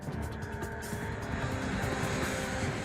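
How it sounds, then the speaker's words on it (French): A Lockheed L-1011 TriStar airliner flies under autopilot at low altitude, its steady jet engine roar filling the cabin as a continuous broadband drone without a break. "L'avion répète le vol de son prédécesseur."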